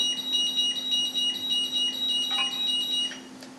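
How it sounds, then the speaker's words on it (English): Rapid high-pitched electronic beeps from a battery charger signalling a charged battery repeat in bursts over a steady low hum, moderately loud with no talking. "You hear that beeping in the background? That's a charged battery."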